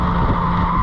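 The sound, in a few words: Mazda MX5 race car braking hard, tyres skidding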